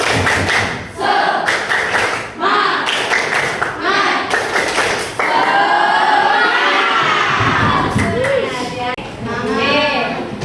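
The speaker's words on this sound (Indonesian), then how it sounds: "Coba kita tepuk semangat dulu." A group of students in a school classroom does a rhythmic spirit clap led by a teacher, with bursts of claps in patterned beats mixed with loud chanting voices and shouts.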